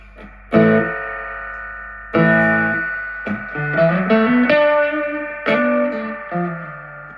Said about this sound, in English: That's all the reverb, absolutely all of it.